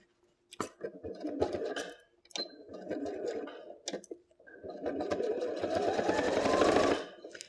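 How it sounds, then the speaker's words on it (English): A sewing machine stitches the outer fabric of a phone case along a 5mm seam allowance, running in several short bursts with brief pauses, then one long, steady run that speeds up before stopping. The motor whirs close by, with no talking. "I'm just going to sew the outer first"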